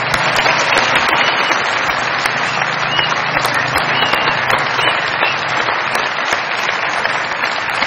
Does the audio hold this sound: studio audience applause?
yes